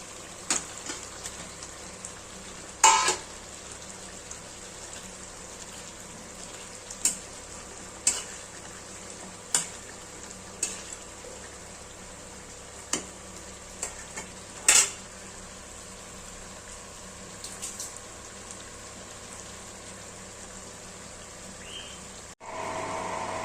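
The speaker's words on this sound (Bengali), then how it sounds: "এখন হচ্ছে ভাজা মাংসগুলো দিয়ে দেব।" Fried chicken pieces go into a pan for Bengali chicken kosha cooked with little oil, giving a low steady sizzle broken by several sharp clinks of a utensil against the pan, with no talking.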